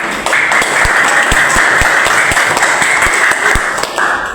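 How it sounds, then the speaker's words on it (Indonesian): A classroom group applauds, a dense patter of clapping hands that stays loud and continuous for several seconds with a few sharper individual claps standing out. "Tepuk tangannya mana?"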